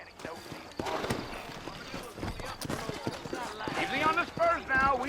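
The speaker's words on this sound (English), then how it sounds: "Mount the horse." Horse hooves clip-clopping in the Red Dead Redemption video game, a quick irregular run of hoof strikes with a horse snort or whinny near the end, under game dialogue.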